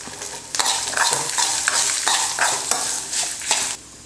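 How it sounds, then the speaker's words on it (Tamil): Red chilies, garlic, coconut pieces and tamarind sizzle and fry in hot oil in a pan for a drumstick-leaf chutney, steady crackling sizzle with repeated scraping stirs, close and loud, no talk. "எல்லாம் கொஞ்சம் நேரம் எண்ணெயில் நல்லா வதக்கலாம்."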